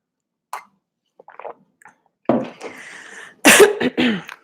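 A few soft throat noises and small coughs, then a louder bout of coughing and throat clearing up close, with no talking.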